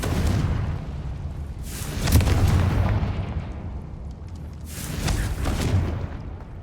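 Confringo blasting spell exploding in Hogwarts Legacy, heard as two heavy booming blasts a few seconds apart, each with a crackling burst and long rumbling tail, loud and close with no talking.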